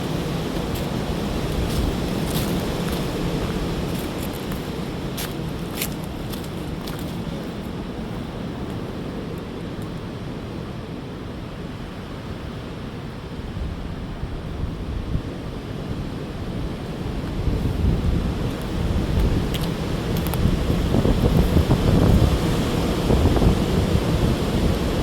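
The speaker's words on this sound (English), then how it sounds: "You can see the wind's still gusting pretty good." Strong wind roars and gusts on a mountain trail, a constant rushing noise that swells louder toward the end, with no voices.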